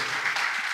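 A church congregation applauds, a brief burst of steady hand clapping at moderate distance.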